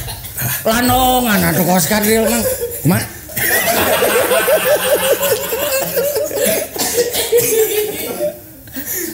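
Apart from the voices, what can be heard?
cough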